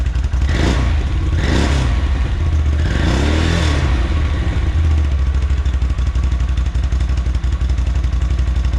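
A 2019 Can-Am Outlander 650 XMR ATV fitted with a Yoshimura slip-on exhaust, revved a few times in quick blips that rise and fall, then settling into a loud, close, rumbling idle.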